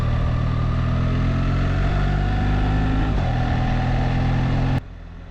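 BMW R1300GS motorcycle riding on wet main roads out of Cardiff, a steady close engine drone with road and tyre noise that cuts off abruptly near the end.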